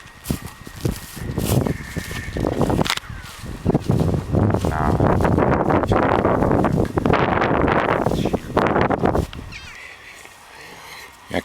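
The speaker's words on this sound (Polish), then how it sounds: "No tu widać jaki silny jest wiatr w porywach" Strong wind buffets the microphone in loud, rough gusts that swell and ease, with a few faint honking sounds mixed in.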